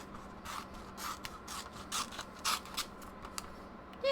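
Scissors cut a glossy magazine page for collage work, with a steady run of quiet, close snips and paper rustles about every half second, no voices.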